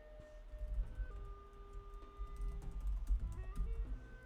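Keys tapped on a computer keyboard while logging in to PayPal, a quick irregular run of soft clicks close by over a low hum and faint steady tones, with no talking.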